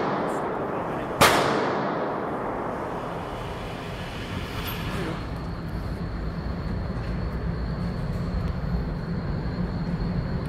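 A single sharp gunshot from an S&W Model 19-4 revolver cracks out near the start. The report is loud and close and rings off into a noisy, steady outdoor background.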